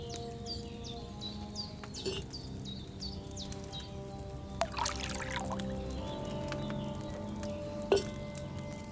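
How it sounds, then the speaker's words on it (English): Wine is poured into a cauldron in the video game Kingdom Come: Deliverance 2, a soft steady trickle under a medieval ambience of birdsong, with a few faint knocks and clinks. "So, what did you pour in there? Wine, of course."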